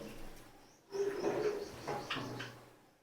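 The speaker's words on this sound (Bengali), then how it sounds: "এই দেখুন, এটাকে বলে ইয়েলো সাইডেড কনুর, আর এটা হলো গ্রিন চিক কনুর।" Small pet conures, a yellow-sided conure and a green-cheeked conure, give a few soft close coos and chirps after a quiet start, with faint background noise.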